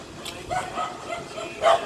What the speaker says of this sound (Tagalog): Nakipag-compete ako sa kahol ng aso.